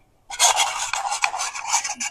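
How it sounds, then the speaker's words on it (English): Broken makeup product being scraped into a pan, a continuous dry rasping scrape lasting about two seconds, close and fairly loud, with no talking. "Scrape."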